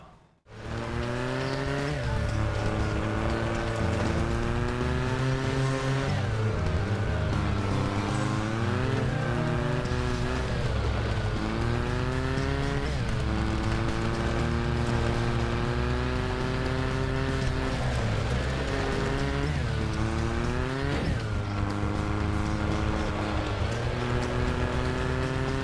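Off-road racing car engines from a Sega racing game on the Sony PSP roar loudly and continuously, pitch climbing and dropping through repeated gear shifts, with no talk over them.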